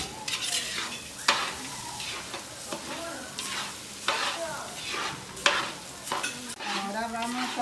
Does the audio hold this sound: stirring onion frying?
yes